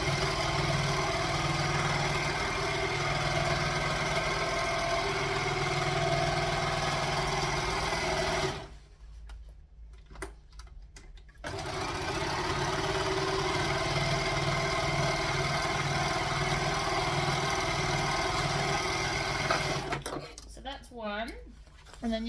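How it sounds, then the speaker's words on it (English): An overlocker serger runs in a fast steady whir while overlocking fabric panel edges for a library bag, stopping briefly midway, restarting, then pausing again near the end, with someone talking over it. "So the reason I'm pre-overlocking it is it's going to make it easier to make the little loop to put the cord through."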